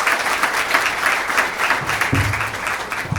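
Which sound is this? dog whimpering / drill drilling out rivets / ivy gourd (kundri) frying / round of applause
round of applause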